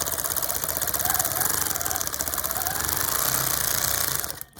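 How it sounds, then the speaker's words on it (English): Close, rapid mechanical whirring of a sewing machine running a short burst of quilting stitches forward and back, steady and continuous before stopping at the end. "So I'm gonna do a few stitches over, a few stitches back."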